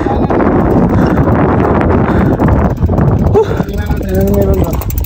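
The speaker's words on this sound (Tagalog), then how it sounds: "Mahangin." Strong wind buffets the microphone on a desert hiking trail near Riyadh, Saudi Arabia, a loud, steady rumbling gust with faint rustling and brief background voices.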